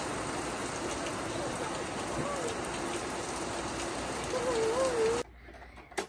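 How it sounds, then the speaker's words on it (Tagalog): Heavy rain falls in a constant, dense hiss close by, then cuts off abruptly near the end, leaving near silence with a faint bump. "Ang lakas ng ulan, oh."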